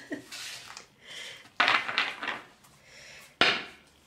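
A cat playing around in a room makes a series of irregular knocks, rustles and thumps, with two sharper close impacts partway through and softer shuffling between them, and no voices.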